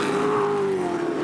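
A GT race car at Pukekohe Park Raceway, a 2009 Daytona 24-hour entrant, passes close and loud with a sustained high engine whine that falls slowly in pitch.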